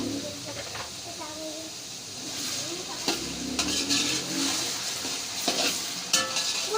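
Half a kilo of tomatoes with whole green chillies sizzles in a pot while being stirred, spatula scrapes and clinks of cookware cutting in, with a voice talking faintly in the background.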